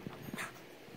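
A dog at a kennel gives a few short whimpers and yips, quiet and brief, with faint scattered vocal bursts and no talk.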